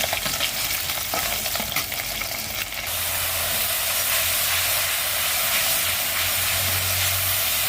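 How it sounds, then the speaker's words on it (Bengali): Fish frying hard in hot oil, a steady loud sizzle and hiss throughout with faint clinks of stirring early on, no voices. "এই যে মাছটা কিন্তু অনেক কড়া করে ভেজে ফেলছি"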